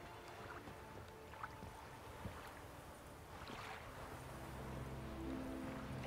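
A boat glides across open water in The Witcher 3, a soft continuous wash of water and wind with faint creaks, low and even throughout, no voices.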